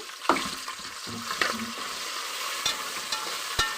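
Prawns fry in a pan with ginger-garlic paste, a loud continuous sizzle with a few spoon clinks and stirring knocks, close and without talk.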